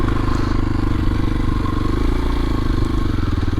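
A 2022 Kawasaki KLX230SE dual sport motorcycle riding along just after a downshift, its single-cylinder engine thrumming loud and close in a steady, even pulse.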